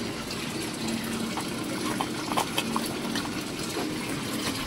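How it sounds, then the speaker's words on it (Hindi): Water filling from a village stepwell, a continuous splashing gush with small bright spatters, steady and close with no voices. "यहाँ से मैं ठंडा ठंडा पानी भरूंगी"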